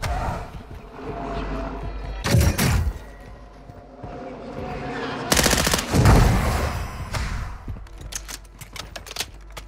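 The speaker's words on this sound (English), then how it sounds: "Someone's shooting at something." Video game gunfire in a battle royale match: rapid automatic bursts of shots, including two loud close volleys, over a continuous rumbling background.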